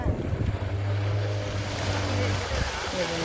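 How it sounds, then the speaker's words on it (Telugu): Steady rush of water streaming past a moving boat, with wind buffeting the microphone and a low hum underneath. "వాటర్ ఇలా ఫ్లో అవుతుంది కదా నాన్న"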